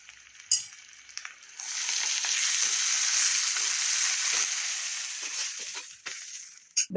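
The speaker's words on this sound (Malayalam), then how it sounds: "ദോശക്കല്ലിലേക്ക് ഇത് ചുടാൻ വച്ചിരിക്കുകയാണ്." A mushroom mixture with spices and oil, wrapped in a leaf, sizzles on a hot dosa griddle. A steady, close frying hiss swells in after a couple of seconds, holds, then fades, with a few light clicks at the start and end.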